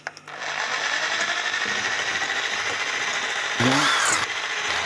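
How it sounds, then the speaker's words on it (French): An electric drill fitted with a whisk whips buttercream, giving a steady loud whirring drone that runs nearly the whole time after a few short clicks, with a brief rise in pitch near the end. "c'est la crème au beurre à la perceuse"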